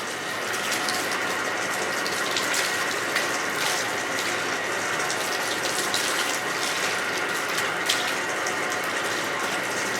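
Running water rinsing hair dye out of hair in a salon, a steady close hiss and splatter of spray that continues evenly throughout with no talk.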